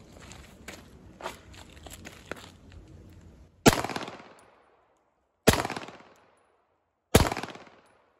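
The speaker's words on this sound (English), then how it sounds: "I kept the shooting going." Three loud, sharp gunshots fired at a target at a range, each with a long ringing decay and spaced about two seconds apart, after some softer shuffling and handling noises.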